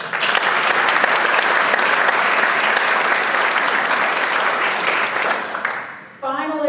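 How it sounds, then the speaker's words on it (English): An audience at a Rotary Club of Atlanta meeting gives a loud, sustained round of applause that gradually tapers off before a voice begins speaking. "a big round of applause and appreciation for all of their hard work"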